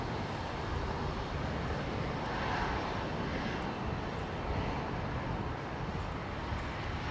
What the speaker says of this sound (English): Next arrival coming in on the Legacy, Velocity 947 from Sydney